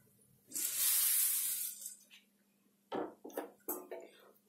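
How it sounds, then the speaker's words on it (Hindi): Puffed rice (kheel) pours in a rushing, rattling stream into a pan of roasted spices, followed by a few shorter scraping stirs; someone talks in between. "अब मैं इसमें खील डाल देती हूँ"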